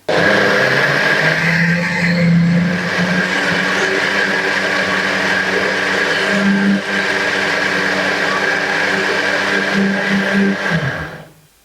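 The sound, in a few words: blender grinding rice with water and sugar for apam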